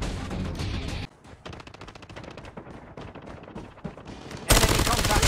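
Rapid gunfire in Call of Duty Mobile, a fast rattling stream of shots that dips quieter midway before a loud, dense burst at the end, under busy game sound.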